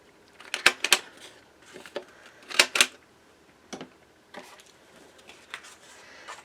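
A paper punch makes a handful of sharp mechanical clacks, a few in quick pairs, with quieter clicks and desk rustling between them, close and fairly crisp.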